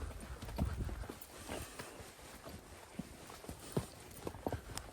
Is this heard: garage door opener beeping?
no